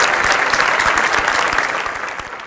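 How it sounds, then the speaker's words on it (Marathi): Audience applause welcoming Dr. Avinash Pol at a Satyamev Jayate Water Cup event: dense, steady clapping from a crowd, loud and close, tapering slightly toward the end, with no talking over it. "त्यांचं टाळ्या वाजवून जोरदार स्वागत करूया."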